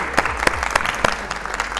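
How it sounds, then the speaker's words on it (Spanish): Audience applause breaks out during a motivational talk on getting ahead in life, a short burst of close, dense clapping lasting about two seconds. "Un aplauso para Richie"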